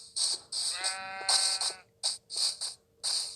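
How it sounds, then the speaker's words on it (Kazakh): Sheep in a Minecraft-style video game bleat repeatedly in short, clear, nasal bursts, several calls in quick succession with brief gaps, close and fairly loud with no talk. "бір жануарды табамын деп міне қой тауып алдым"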